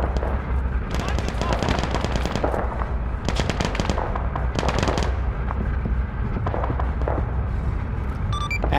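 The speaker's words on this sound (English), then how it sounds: "We're hearing the anti-tank gun starting to fire." Repeated bursts of heavy gunfire from a German armor-era anti-tank gun in a World War II combat game, sharp cracks clustered in rapid volleys over steady battlefield rumble, with voices talking underneath.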